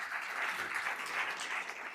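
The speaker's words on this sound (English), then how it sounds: "let's give them a big round of applause" A conference keynote audience gives a round of applause, heard as a faint, even wash of clapping from a distance with no pauses.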